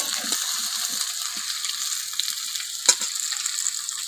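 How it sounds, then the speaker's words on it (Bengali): Potatoes frying in a pan for a rustic village-style catla fish curry, giving a steady close hiss with light scraping and stirring clicks and one sharper knock near the end, no voices. "এই আলুটা একটু লাল লাল মতো এটা ভালো করে ভেজে নিতে হবে"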